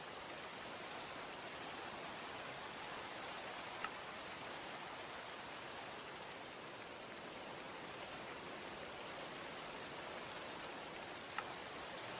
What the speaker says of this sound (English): Is it nighttime enough that I can sleep through this rain?